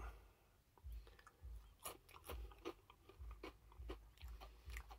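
Dry Malt-O-Meal Cinnamon Toasters cereal is crunched straight from the bag, giving close, repeated crisp bites and chewing crackles in a steady rhythm with no talking.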